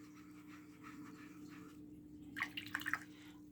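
A watercolor paintbrush is swished and rinsed in a cup of water, giving a quick cluster of soft, close splashy drips and clinks after a quiet stretch.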